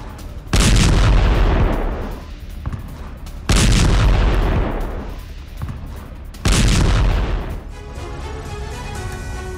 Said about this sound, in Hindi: आईडीएफ के आर्मर्ड वाहन को मोर्टार से उड़ाया गया।